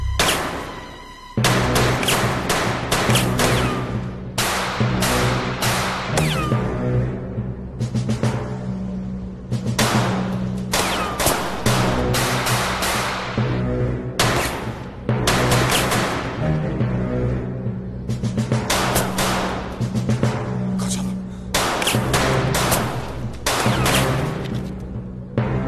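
A firefight at a construction site, with long dense bursts of loud gunfire and rapid volleys that keep going with only brief gaps, set in a dramatic scene with no talk over the shooting.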